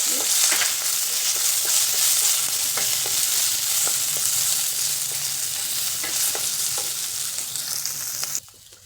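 Green and red chillies fry steadily in hot oil in a pan for South Indian lemon rice, a constant close sizzle with occasional stirring clicks, cutting off abruptly near the end; no talking.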